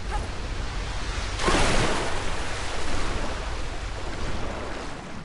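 Rushing water in Tomb Raider Anniversary, a steady broadband wash with a brief louder surge near the start, heard on its own without talk.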